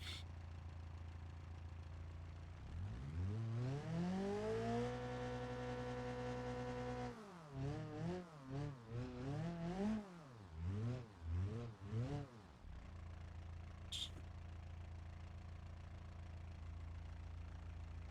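A Moskvich car engine in BeamNG.drive revs up steadily, then rises and falls in repeated throttle bursts before settling back to a low idle.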